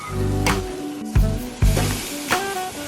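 Steak sizzling in a hot pan as the meat is flipped, a steady frying hiss broken by several louder scraping thumps from the turning, with no talk.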